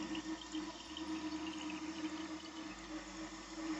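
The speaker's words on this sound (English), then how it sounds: "that's what the noise that you can hear is because the water goes through that tube" Water rushes steadily through a toilet supply tube while the float fails to shut it off, a constant close hiss and gurgle with a faint low hum underneath.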